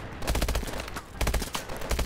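Bursts of rapid gunfire from Call of Duty: Advanced Warfare, two dense volleys of quick repeated shots close up, separated by a brief lull.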